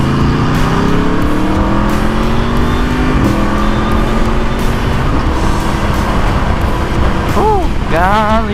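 Aprilia RSV4 1100 Factory superbike ridden in the rain, its engine droning loudly up close with rising and falling revs through gear changes, wind and road noise layered over it, and a whining pitch sweep near the end.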